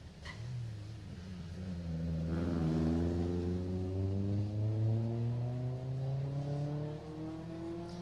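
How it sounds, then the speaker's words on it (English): A Honda Civic rally car at a Jersey rally stage revs hard nearby, its engine note climbing through gear after gear in a loud, sustained rising roar before fading as it moves off. "That's a Honda Civic of Greg Kelly, car 48."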